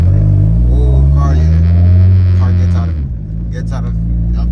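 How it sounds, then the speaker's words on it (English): A car with a newly replaced CV axle drives along, its engine and road rumble loud and close with a low steady drone that eases off partway through, while a voice talks over it. "car is driving fine for right now"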